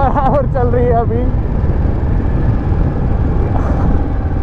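A restored 2004 Royal Enfield Bullet Standard motorcycle pulling hard, a loud rumbling engine and wind noise with someone talking over it at the start.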